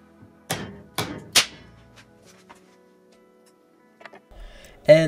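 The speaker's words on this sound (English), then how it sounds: "you need to assemble it like this and hit it with a hammer" Three sharp metallic hammer strikes in quick succession on match-head material packed between bolts, followed by a quiet pause, a few light taps, and a final loud bang.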